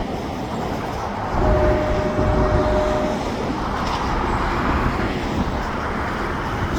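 Freight train of CP Rail and Canadian Pacific style cars and old KCS-style covered hoppers rolling past at steady speed, a loud continuous rumble with faint clacking and a brief squeal early on, with no one talking.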